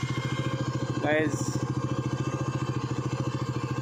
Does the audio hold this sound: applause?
no